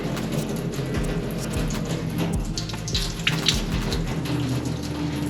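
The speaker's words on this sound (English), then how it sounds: "the pump sounds like it works" Small liquid pump running empty in a workshop before a sandblasting and cold-blue job, a steady, continuous rushing water-like whir held throughout at even loudness.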